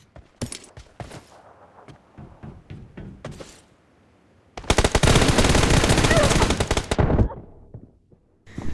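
Gunfire in the mobile battle royale PUBG Mobile opens with scattered single shots, then a long, loud, sustained automatic burst lasting about two and a half seconds, followed by a final shot.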